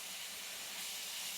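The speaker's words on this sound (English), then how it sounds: "Now you see how this meat's browning nicely." Minced meat browning in a frying pan gives a steady, even sizzle that holds without pause from start to finish.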